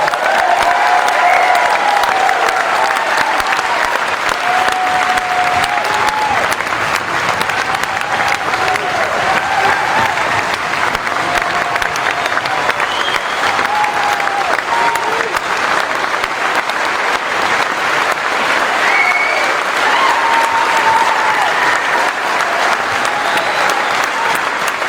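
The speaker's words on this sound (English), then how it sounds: "I appreciate the applause earlier." Sustained audience applause at a community meeting about the Flat Fire in Sisters, honoring firefighters, steady and loud throughout with a few faint voices mixed in.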